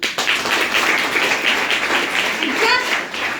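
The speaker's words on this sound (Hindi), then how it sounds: "एक बार ताली बजा दो।" Audience applause at an OK Life Care business plan meeting in Hindi, a broad steady clatter of clapping from a crowd sustained for several seconds over a brief voice.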